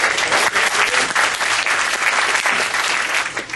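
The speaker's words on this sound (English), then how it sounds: "Give them a round of applause." Sustained applause from a theater audience at a stage mentalism show, a dense steady wash of many hands clapping that holds at full strength and dips slightly toward the end.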